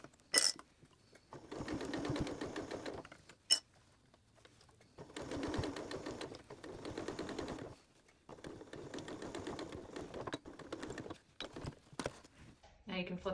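A sewing machine stitching bias tape onto a fabric hot pot lid holder, running in three steady whirring bursts of a few seconds each with quiet pauses and small clicks between them.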